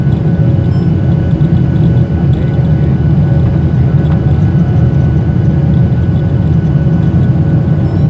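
An old airplane shaking in flight, heard from inside the cabin as a loud, constant low engine drone that never lets up, with no talking.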